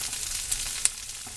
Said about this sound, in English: And here real quick I'm going to stir that squash.